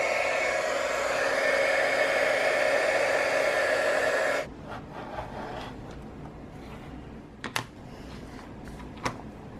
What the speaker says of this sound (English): I just hit it with the heat gun